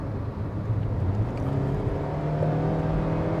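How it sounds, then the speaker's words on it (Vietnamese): Engine of a 2022 Hyundai Creta accelerating while driving, a steady low droning hum with rising tonal whine, heard from inside the cabin, continuous and moderately loud with road rumble underneath. "Anh em nghe tiếng động cơ không ạ?"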